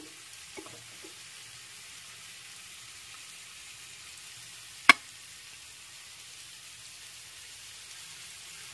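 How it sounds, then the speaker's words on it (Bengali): Mutton pieces fry in a pan, turned from side to side, giving a faint, even sizzling hiss with one sharp click partway through. "আর বাকিগুলোকেও একইভাবে ভেজে নিচ্ছি এপাশ ওপাশ করে।"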